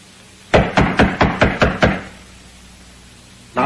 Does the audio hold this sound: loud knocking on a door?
yes